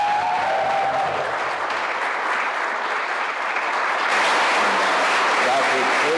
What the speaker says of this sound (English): we'll ask for one more big round of applause for our graduates.